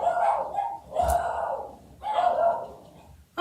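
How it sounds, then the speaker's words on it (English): Dogs bark from nearby indoors in three drawn-out, muffled bursts with short pauses between them, and a sharp knock at the very end. "my dogs are barking"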